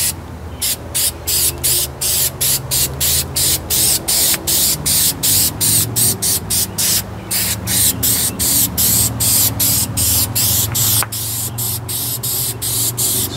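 Spray gun laying clear coat on a Toyota Corolla front fender, a steady loud hiss broken into many short, rhythmic bursts as the trigger is pulled and released, close to the ear with no talk.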